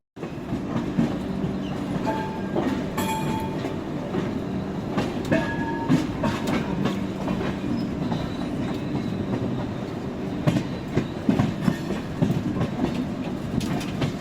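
The 12313 Sealdah–New Delhi Rajdhani Express runs along the rails with a steady, close rumble inside the carriage, scattered rhythmic clicks and clacks from the wheels, and no talking.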